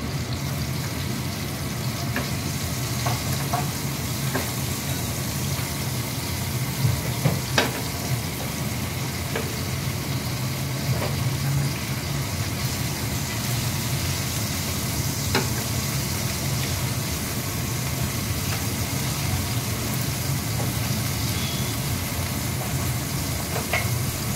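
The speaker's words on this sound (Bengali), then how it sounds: "এই তেলের মধ্যেই আমি পেঁয়াজটা দিয়ে দিলাম।" Steady oil sizzle and crackle from onion frying in a pan of oil used for frying fish, continuous throughout, with occasional soft clinks and stirring noises, no voices.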